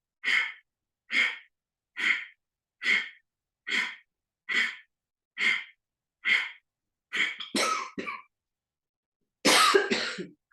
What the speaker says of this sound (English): So I'm coughing